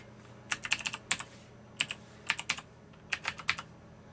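A password is typed on a computer keyboard in short bursts of crisp, close key clicks separated by brief pauses, with no talking.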